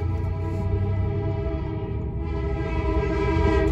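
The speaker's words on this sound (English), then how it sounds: "That is a Canadian National freight train." A fast-moving Canadian National freight train rolls by with a low, heavy rumble while its horn sounds a sustained, loud chord over the top.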